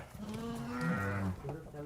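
Sheep at a livestock market, barren ewes, pregnant ewes and lambs among them, bleat in a short, wavering call close by, with people talking around them.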